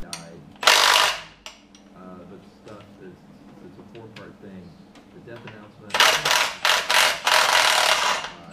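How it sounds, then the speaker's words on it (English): A pneumatic nut gun rattles in loud bursts while driving nuts to remove gearbox studs during a Suzuki Sierra/Samurai G16b engine swap, with one long burst early and a cluster of quick bursts near the end, mixed with mechanical clatter. "driving one nut on with a nut gun, then driving the studs out"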